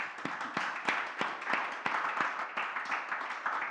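Applause from an audience at a book presentation, a thin scattering of claps at moderate distance, steady for a few seconds with no voices over it.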